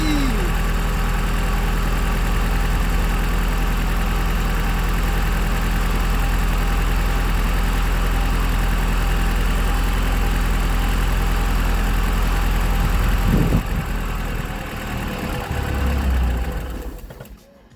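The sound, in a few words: Porsche 944 engine starting and idling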